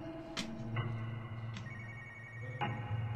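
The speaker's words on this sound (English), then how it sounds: "I hear the phone." A telephone rings inside Spooky's Jump Scare Mansion, the horror game, with repeated ring bursts over a steady low drone and ambient game tones, no speech.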